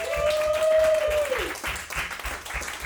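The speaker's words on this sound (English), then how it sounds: "so I want to give you a round of applause." A comedy club audience claps through a short burst of applause, with a brief tone audible at the start and steady clapping continuing throughout.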